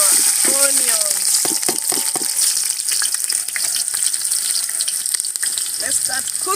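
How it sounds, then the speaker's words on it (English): Onions added to a hot frying pot during outdoor village cooking, giving a loud steady sizzle and hiss with some stirring clatter, close up, and a brief bit of voice or bird-like chirp early on. "We'll add in our onions."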